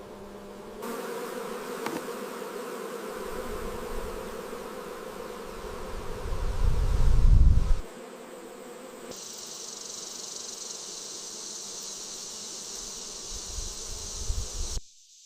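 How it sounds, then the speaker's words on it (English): Steady bumblebee buzzing among blossoms runs throughout, swelling into a louder low drone midway before settling back, with a high tonal layer joining later. "Bumblebees pollinate the food you eat, buzzing amongst vibrant blossoms"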